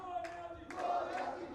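Brief rhythmic crowd chanting of the "Go Niazi Go" slogan at a PPP social media workers' convention rally, two or three shouted bursts over a reverberant crowd murmur.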